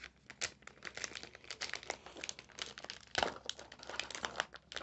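Plastic packaging of an LOL Surprise Hair Gold Surprise toy crinkles and crackles as it is opened by hand, a close, busy stream of irregular rustles and snaps running without pause and with no talk.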